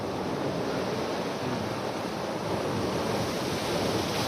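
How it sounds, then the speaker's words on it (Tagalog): Ocean waves wash onto the shore at night under moonlight, a soft, continuous hiss of surf with no distinct breaks, faint and steady throughout. "yung alon, sarap pakinggan"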